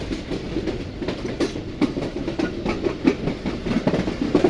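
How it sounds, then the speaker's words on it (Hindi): The Karakoram Express runs on its tracks between Karachi and Lahore, heard as a steady, loud, close rumble with rapid clickety-clack wheel beats over the rails throughout. "मुझे लग रहा है कि ट्रेन हमारी एंटर होने वाली है फैसलाबाद में"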